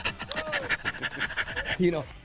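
A dog pants in quick rhythmic breaths close by, with a voice talking over it against a busy radio-show background.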